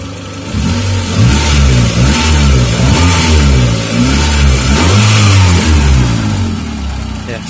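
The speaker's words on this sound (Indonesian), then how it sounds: "Jadi mesinnya itu enteng, digas enteng ya, langsung respon." A Suzuki Baleno hybrid running on compressed natural gas revs loudly and close up, its engine climbing and dropping in repeated throttle bursts with a quick, light response and no talking.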